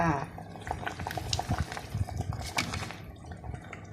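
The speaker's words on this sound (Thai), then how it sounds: "ต้มจืดหน่อไม้อินสับค่ะ เคี่ยวไปเรื่อยจ้า" Thai bamboo shoot clear soup simmering in a pot, with soft bubbling and light liquid pops and drips close by, fairly quiet, fading toward the end.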